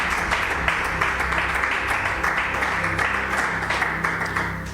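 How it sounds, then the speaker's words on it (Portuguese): Church congregation claps for Jesus, a sustained crowd applause with distinct claps over a low musical hum and background tones, fairly loud and steady before easing slightly at the close. "Damos um aplauso para Jesus."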